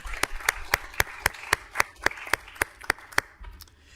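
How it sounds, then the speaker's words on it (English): Applause at a city council meeting comes through as slow, evenly spaced claps, about a dozen crisp hand claps at a steady rhythm, fairly close, fading out at the end. "how about a nice round of applause to Ron and his staff for the excellence"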